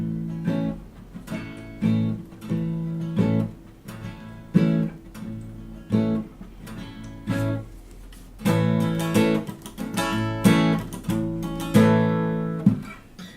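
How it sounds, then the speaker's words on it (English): Guitar strumming on an acoustic guitar, where ringing chords alternate with short percussive muted-string chucks. The rhythmic pattern repeats with distinct bursts and brief gaps, played up close and alone. "instead of just letting the strings ring all the time, so you give it those chucks."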